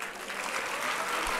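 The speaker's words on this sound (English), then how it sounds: "I think your claps should be louder." Hands clap across a convocation ceremony audience in a brief, dense, continuous burst of applause from many people, fairly loud and steady throughout with no voices over it.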